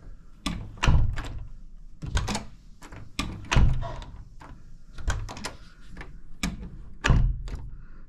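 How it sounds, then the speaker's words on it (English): A bedroom door that won't stay closed is pushed shut over and over, making a series of sharp wooden thuds and rattles in irregular clusters, close and fairly loud. "when I shut the door, here's what happens"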